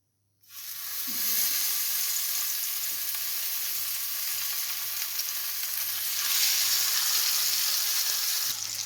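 Fish frying in a tablespoon of oil in a frying pan lets out a sudden, loud, continuous hiss and sizzle that holds steady and swells slightly toward the end, close and without talk.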